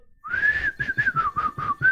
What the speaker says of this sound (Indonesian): Kalau bersiul itu begitu.